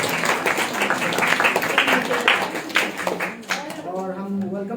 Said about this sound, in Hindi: हम सब ताली बजाकर धन्यवाद देते हैं